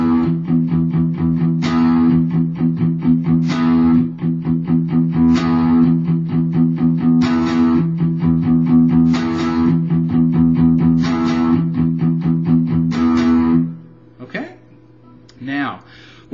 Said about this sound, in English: So the intro is going to sound like this.